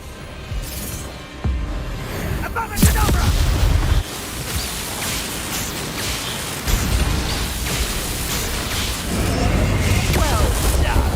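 Spell blasts from Confringo and Bombarda bursting in Hogwarts Legacy combat, a string of loud booming impacts with crackling debris over a continuous rumbling battle bed, several sharp hits landing a few seconds apart.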